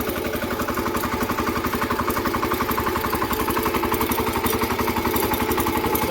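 A farm tractor engine runs steadily at close range, its rapid, even firing pulse and mechanical clatter continuous and loud throughout, with no talk over it.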